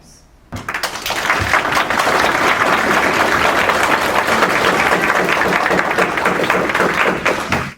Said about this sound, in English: prompting applause from many senators and students in attendance